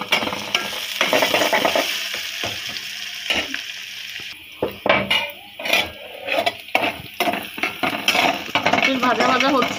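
Steady frying hiss fills a pan before eggs go in, with stirring clatters and scrapes throughout, and a voice speaks partway through.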